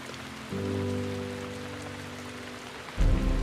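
Steady rain falls in the wild, a continuous wash of drops that swells with a low rumble midway and a heavier gust near the end.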